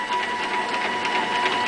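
A motor-driven X-axis on a home-built machine whirs steadily under power during a motion test, a close, even mechanical hum with no speech.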